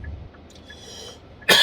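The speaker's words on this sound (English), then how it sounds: "It's a nervous cough." A single sharp, loud cough bursts out near the end of a quiet stretch, close to the microphone.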